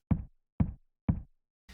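A tapping sound pitched far down into a deep kick-drum thud strikes three times at an even pace, each hit short and boomy with a quick decay, followed by the onset of a fourth, brighter sound.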